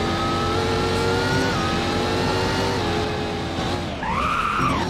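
A game car in Roblox Driving Empire accelerating hard with a loud, steady engine whine that climbs in pitch, ending in a screech of skidding tires that sweeps up and down near the end.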